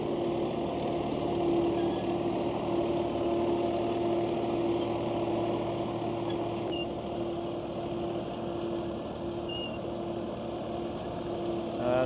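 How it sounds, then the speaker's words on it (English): A vintage Massey Ferguson 420 tractor ploughing a field, its engine holding a steady, even drone with a constant low hum, running unbroken at moderate distance without any talk. "And here's Will Marshall in his Massey Ferguson."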